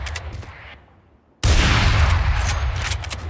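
Gunfire on a Valorant practice range: a quieter shot tail fades out, then after a short silence a loud, close burst of firing hits targets and keeps ringing.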